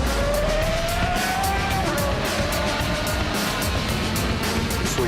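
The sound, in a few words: race car accelerating on a straight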